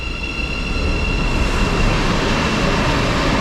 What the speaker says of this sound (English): There is another train passing through